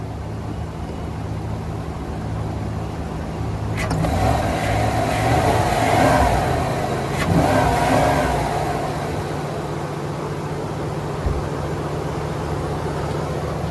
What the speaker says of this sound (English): I'm gonna go rev it up a little bit so you can hear it